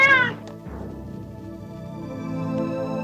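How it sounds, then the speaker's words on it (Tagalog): A cat that has caught a rat lets out a drawn-out, close meow at the start, followed by a lower, ongoing yowling murmur. "pusa lang pala eh, nakahuli ng daga."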